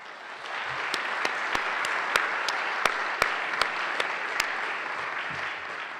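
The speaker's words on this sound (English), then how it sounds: "please a round of applause for them" Audience applause at a public talk on democracy and climate change, steady clapping from a crowd filling the whole stretch with sharp individual claps standing out, no talking.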